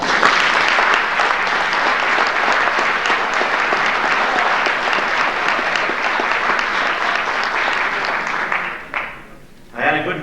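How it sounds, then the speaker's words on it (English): Audience at a school fall sports awards night applauds in a sustained, dense burst of clapping for about nine seconds, then it fades and cuts off near the end. "they deserve a round of applause for that."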